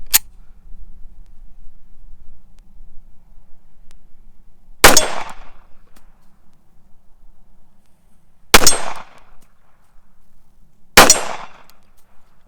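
Sharp, loud gunshots from a TISAS 1911A1 pistol at an outdoor range, one at the start and three more spaced several seconds apart, each a crisp crack with a short ringing tail over quiet background.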